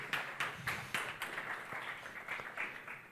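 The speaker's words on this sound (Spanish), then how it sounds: "Un aplauso, ¿no?" A conference audience claps after a talk, fast repeated claps at first that thin out and soften over about three seconds, heard at a moderate distance.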